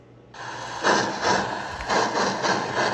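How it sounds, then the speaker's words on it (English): Model steam train on a Hudson locomotive with an Electric Railroad soundboard chuffs in a steady rhythmic series of hissing puffs over a constant high whine, close and moderately loud. "Did you hear that chuff?"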